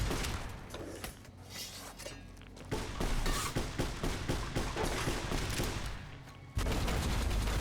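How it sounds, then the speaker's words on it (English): Gunfire from the video game Fallout: New Vegas, a rapid run of repeated sharp shots crackling in bursts, with a quieter lull early and then a sustained volley of close, loud reports. "I heard some gunshots over here."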